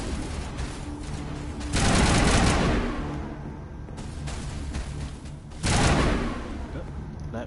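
Bursts of gunfire in Mass Effect, fired at wildlife, come in two heavy volleys over a constant rumbling game backdrop.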